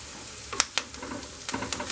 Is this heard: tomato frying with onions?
yes